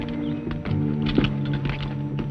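Horse hooves clip-clop at a walk in a Western ranch setting, several soft irregular thuds under a steady background hum, close and moderately loud with no talk.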